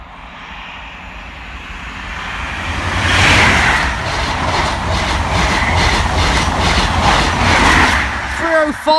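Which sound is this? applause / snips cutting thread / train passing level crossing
train passing level crossing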